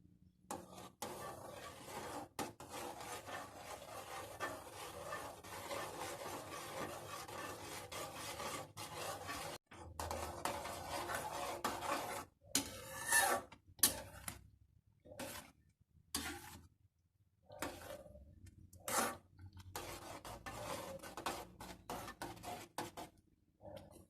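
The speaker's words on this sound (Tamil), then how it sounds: "கொஞ்சம் கொஞ்சமாக போட்டு கிண்டிகிட்டே இருங்க" Spoon scraping and stirring as semolina (rava) is added bit by bit into boiling water in a pot for rava kichadi, steady rasping strokes that break into short separate scrapes near the end, close and fairly quiet.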